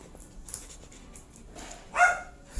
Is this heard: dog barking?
yes